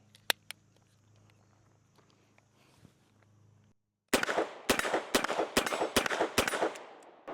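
A Korth Ranger revolver fires one sharp, loud shot at a man-sized target, followed by a rapid string of crackling, echoing shots and impacts after a quiet stretch with faint handling noise.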